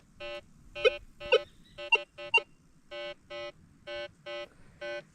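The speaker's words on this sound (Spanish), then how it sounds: "normalmente cuando eso está enterrado, el detector suena así" Metal detector sounding over buried barbed wire beside a river, a series of short buzzy electronic beeps repeating in an uneven rhythm, with a few sharper peaks among them, over faint outdoor background.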